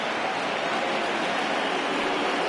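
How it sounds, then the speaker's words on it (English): Heavy rain in the baseball video game MLB The Show 20 pours as a dense, steady hiss, close and even throughout with no pauses. "You just sensed it was coming with the heaviness of the rain"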